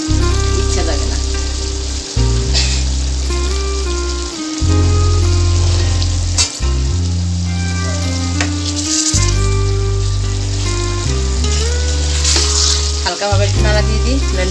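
Katla fish with eggplant fries in a pan on an electric stove and is stirred now and then, a steady sizzle running beneath loud background music.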